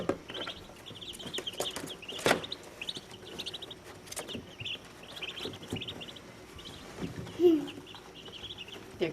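Day-old Muscovy ducklings peep in rapid high chirps, irregular and fairly close, with a few louder sharp calls and quiet background voices.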